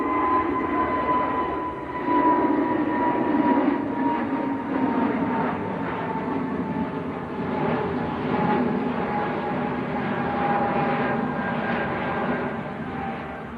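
An Airbus A320neo jet airliner at Manchester Airport makes a loud, continuous jet engine roar with a steady whine running through it, rising and falling gently over several seconds, with no talk.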